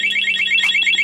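A motorcycle alarm being tested during installation on a Yamaha bike blares a loud, rapidly pulsing electronic tone that repeats steadily throughout, close and alone.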